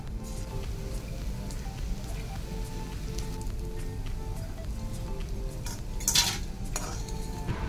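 Watermelon rind with onion and a little chili fries in a pan, a soft steady sizzle with intermittent stirring and utensil clinks against the pan, fairly quiet and with no talk.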